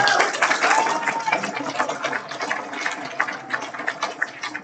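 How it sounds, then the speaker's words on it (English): Audience applause for the tech crew at a conference session, with a dense, fairly loud patter of clapping that gradually tapers, and a voice briefly audible over it early on. "let's give our tech guys a round of applause for"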